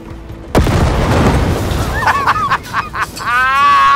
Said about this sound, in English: Oh, you want me to throw a grenade? Sure.